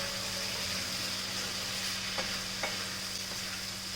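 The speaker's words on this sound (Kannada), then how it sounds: "ಸೊ ಈ ರೀತಿ ಮಿಕ್ಸ್ ಮಾಡಿಕೊಂಡ್ರೆ ನಮ್ಮದು ಬೆಂಡಿ ಫ್ರೈ ರೆಡಿ." Okra fry being stirred in a pan: a steady, soft sizzle with a faint hum beneath, broken by a couple of light scraping ticks from the spoon, close and alone without talk.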